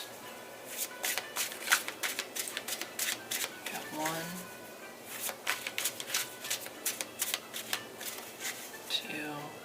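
Tarot cards being shuffled in quick riffling bursts, close and crisp, with a few brief murmurs of speech in between.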